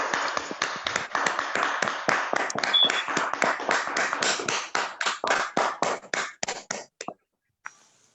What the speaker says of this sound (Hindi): एक जोरदार तालियों के साथ स्वागत करते हैं